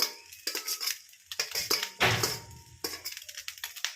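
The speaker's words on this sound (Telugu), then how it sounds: "మొత్తం అయితే ఇలా కలిపేస్తున్నాం" Cooked rice tossed with salt and coriander in a metal vessel produces irregular scrapes and clinks of a spoon against the pot, close up, in short bursts with brief pauses.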